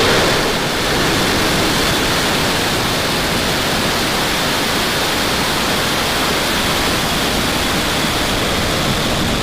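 SpaceX Falcon 9 rocket lifting off with Turksat 5B, a loud, steady broadband roar that holds at full strength throughout without a break.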